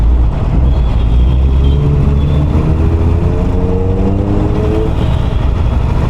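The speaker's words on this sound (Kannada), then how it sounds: "ನಮ್ಗೆ ಅವಾಗಿಂದ ಅಂಡರ್ಪಾಸಲ್ಲಿ ಏನೋ ಕೇಳಿಸ್ತಿದೆಯಲ್ಲ ಸೌಂಡು ಅಂತ ನೋಡಿದ್ರೆ ಹಯಾಬುಸ" Suzuki Hayabusa motorcycle fitted with an Akrapovic exhaust, heard inside an underpass as a steady, loud engine drone with a slowly rising pitch, continuous traffic-like rumble throughout.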